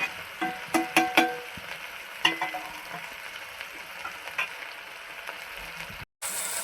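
Spices and tomato fry in a pan for masoor dal, a steady soft sizzle with a few sharp spoon clinks and stirring scrapes near the start, close and fairly quiet, with no talking.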